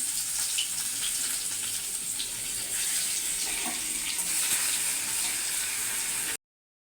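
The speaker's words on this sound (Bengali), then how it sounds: "তেল গরম হয়ে গেছে, রসুনটা আমি দিয়ে দেবো" Grated garlic frying in hot oil in a wok, a steady broadband hiss and crackle that holds evenly throughout without any voices, before cutting off abruptly at the end.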